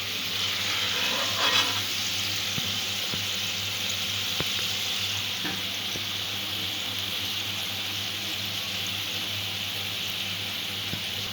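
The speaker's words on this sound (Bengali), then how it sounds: "ছোলার ডালটা গোল্ডেন ব্রাউন করে ক্রিস্পি করে ভেজে নেব।" Chana dal frying in oil until golden and crispy, a steady bright sizzle close by that carries on with no gaps, with a few faint clinks of a spoon against the pan.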